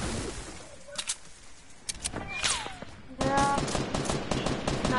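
Video game gunfire: bursts of sharp automatic shots in irregular clusters, then a denser loud volley near the end, with a brief rising whistle-like tone and a faint voice underneath.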